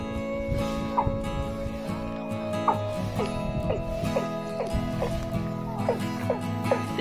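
Chicken calls in an open rice field, short clucking cries repeating at irregular intervals over a steady low background hum, moderately close and without talk.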